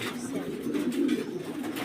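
A single pigeon gives a low, steady coo, heard up close, with faint talking in the background.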